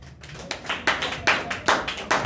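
A church congregation claps hands together in a steady rhythm of sharp, evenly spaced beats, about two or three per second, growing slightly stronger.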